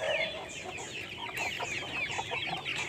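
Free-range native village chickens on a small farm clucking, several birds calling intermittently at moderate distance over steady outdoor ambience, with no voices.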